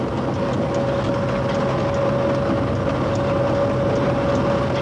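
Electric locomotive CC 6524 hauling a passenger train from Paris Austerlitz toward Limoges at about 138 km/h, a loud, steady rolling roar with a sustained high whine and faint rhythmic wheel clatter throughout, no voices.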